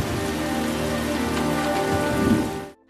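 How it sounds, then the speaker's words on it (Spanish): Rain pours in a film scene, a thick steady patter of drops on surfaces under a faint musical tone, ending abruptly in silence. "un momento bajo la lluvia que es la imagen más icónica de la película"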